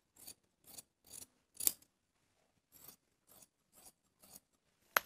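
Scissors cut through blouse fabric in about nine crisp, separate snips at a steady rhythm. The sound is close but quiet, with brief silences between cuts and no talking.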